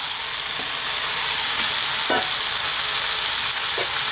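Potato curry fries with a loud, steady sizzle after raw spinach goes in, with a few soft scrapes and knocks of stirring scattered through.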